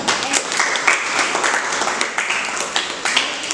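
Children applauding together in a classroom, a steady burst of close, dense clapping that runs throughout without pause.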